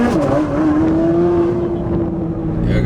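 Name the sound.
Chevrolet Corvette C8 Z06 with Yonristic exhaust, stock mufflers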